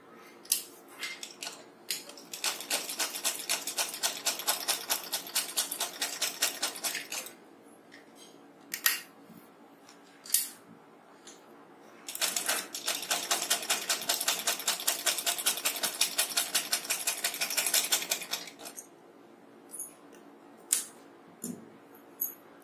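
A sewing machine stitching fabric for a small summer dress, two long steady runs of rapid mechanical chatter separated by pauses with scattered single clicks and taps, heard close and moderately loud without talking.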